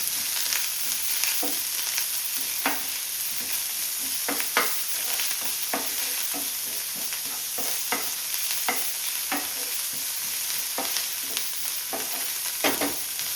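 Chopped onions frying and being stirred in a pan for shakshuka, giving a steady close sizzle with repeated scraping strokes of a spoon across the pan and no voices.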